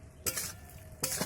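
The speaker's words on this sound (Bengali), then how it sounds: "এইবারে নাড়ানাড়ি করলাম" A spoon scrapes and stirs through a pan of potato and ridge gourd poppy-seed curry with morala fish, in two short bursts of stirring separated by a quiet pause with faint background hiss.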